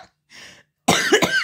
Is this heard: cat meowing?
no